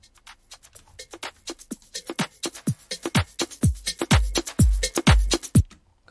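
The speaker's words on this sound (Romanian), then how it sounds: "Aici sunt shaker-le și țâcă-țâcă." In an FL Studio house beat, a busy pattern of crisp shaker and hi-hat ticks skitters over deep kick thumps that build in loudness, dry and close with no voices.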